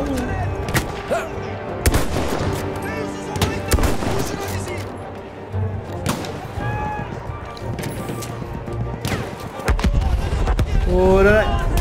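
Combat in the Battlefield 1 single-player campaign on PC, including a grenade blast. Sharp gunshots and heavy booming impacts punctuate a continuous battle din, with someone talking over much of it.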